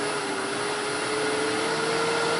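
A wood lathe spins a bowl blank at about 2300 rpm, giving a steady, loud, even whirring hum with a constant tonal whine and no talk.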